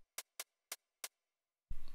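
Four crisp hi-hat ticks in a 2-2-1 spaced UK drill pattern programmed in Soundtrap, evenly loud and dry, followed by a sudden burst of broader, fuller sound at the end.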